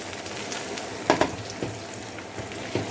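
Small chopped onion pieces hit hot oil in a frying pan for a white sauce macaroni, giving a steady close sizzle with a couple of sharper crackles as they land and settle.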